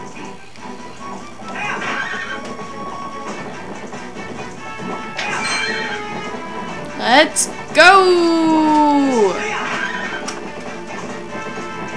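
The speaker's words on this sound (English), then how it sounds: "You can just use the horse." The horse Epona in Zelda Twilight Princess gallops and lets out a loud, sharp neigh with a falling pitch, preceded by a crashing impact, while a person talks briefly beside the game sounds.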